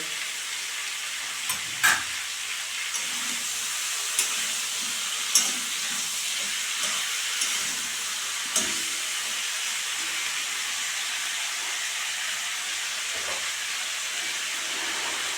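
Mixed vegetables cook under a lid in a pan on a gas flame, giving a steady, soft frying sizzle with a few sharp clicks and pops now and then.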